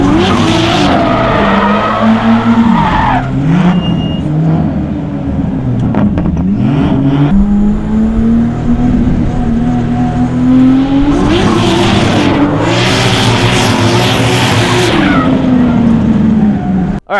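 A drifting car's engine revs and drones loudly while its tires squeal and skid in long sweeping bursts as it spins out, the squeals swelling sharply near the end.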